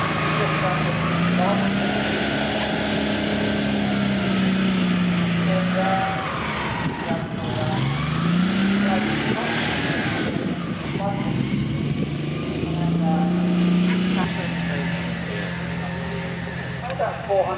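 A Panhard ERC 90 Sagaie armoured car's engine runs nearby at a military vehicle show, droning loudly with rising and falling revs, while people talk over it.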